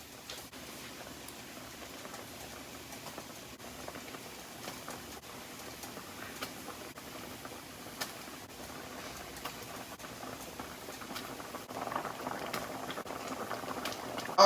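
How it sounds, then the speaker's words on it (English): Blueberries bubbling in a pot with dumplings dropped in, a continuous close rolling boil with fine popping texture that swells slightly louder toward the end. "Our blueberries has came to a boil."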